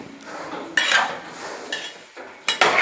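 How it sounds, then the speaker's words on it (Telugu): A utensil stirs a cauliflower curry of tomato and onion in a metal pan, giving a few close, sharp scrapes and clinks separated by short pauses. "టమాటా కూడా మగ్గిన తర్వాత కూర మొత్తం కూడా నీట్గా కలుపుకోవాలి."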